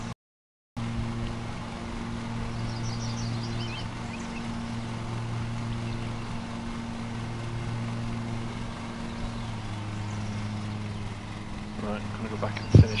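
Lawn mower engine in Lawn Mowing Simulator on PS5, cutting long grass and overheating, drones as a steady low hum that runs without a break for the whole stretch, with a sharp knock near the end.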